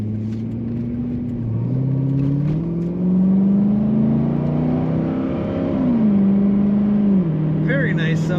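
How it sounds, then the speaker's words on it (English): 2008 Chevrolet Corvette coupe with automatic transmission, its engine droning and rising through a couple of smooth revs before settling back, loud and close, with a faint voice near the end. "Very nice sounding Corvette"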